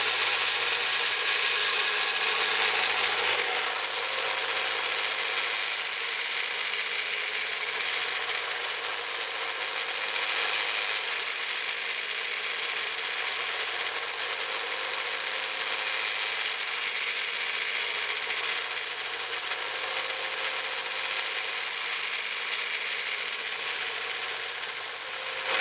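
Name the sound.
rotary tool grinding down a copper ring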